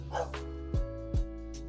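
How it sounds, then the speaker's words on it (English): Dogs barking indoors nearby, three sharp loud barks spaced evenly over a low background hum. "I need to close the door because the dogs are going bonkers"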